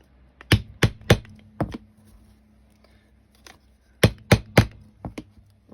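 Holes are punched through book pages: sharp, close thunks in two quick clusters of three or four, with a short quiet gap between them.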